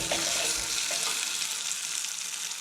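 Tofu frying in a pan gives a steady, close, broadband sizzle with a few faint clinks and no talking, while a home cook prepares an Asian-style Brussels sprouts soup.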